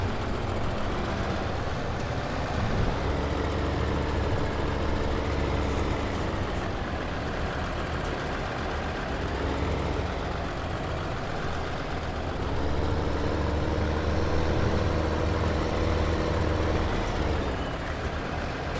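Tractor engine from Farming Simulator 15 on the Melbury Estate map, a steady low diesel drone with a faint higher whine, running continuously and fairly close throughout with no talk over it.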